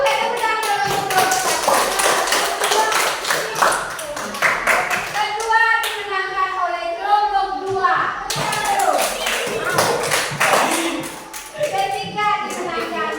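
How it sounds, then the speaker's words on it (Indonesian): Classroom applause for the winning groups after a bingo game: a steady patter of many hands clapping runs throughout, close and lively, while a teacher and children talk over it. "Oke, tepuk tangan untuk kelompok"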